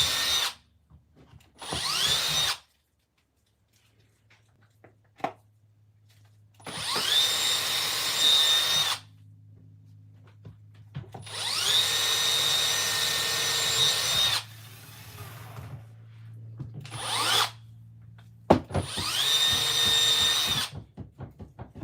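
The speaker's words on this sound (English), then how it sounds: "You a fan of drilling out the bulkheads, Mr. Andy, or not?" Power drill whirring in several separate bursts, drilling out bulkhead holes on a Traxxas X-Maxx RC car, each run lasting a couple of seconds with short pauses and a steady whine between quieter handling noises.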